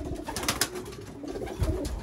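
Pigeons coo in a breeding loft compartment, soft throaty calls repeating nearby against a quiet background of rustling.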